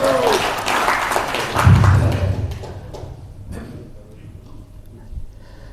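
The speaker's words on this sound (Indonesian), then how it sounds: "Tepuk tangan dulu." A seated crowd at a Halal bi Halal community gathering in Dumai claps loudly and close for about two seconds; the applause then quickly thins and fades into quieter room noise with a few scattered thumps.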